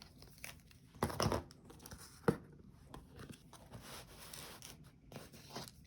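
A sheet of paper is handled and crumpled in an art studio, with faint crinkling and sharp rustling bursts, including two louder crunches, over a quiet background.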